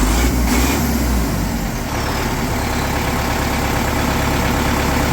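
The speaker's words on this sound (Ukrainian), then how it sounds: "Трактор заведений." MTZ-82 tractor diesel engine idling just after starting, a loud, close, steady rumbling throb that holds evenly for the whole stretch.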